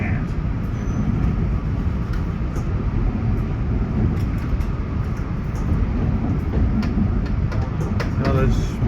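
Diesel locomotives with EMD 567 engines rumble in a heavy, steady growl with rail noise, close and loud, while people talk over it.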